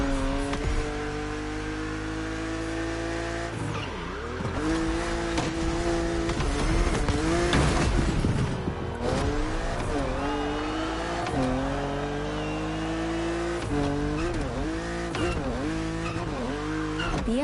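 A BMW Z roadster racing in a video game holds a steady, loud engine drone, its pitch climbing and dropping through gear shifts and revs across the run, with no talking.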